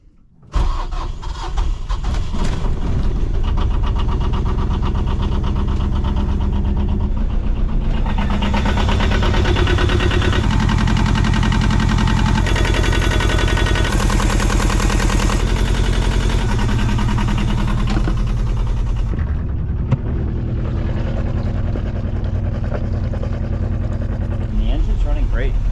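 A sailboat's inboard engine cranks briefly and catches quickly after fuel maintenance, then settles into a steady, loud, close idle with a rough rhythmic knock, and a voice speaks partway through.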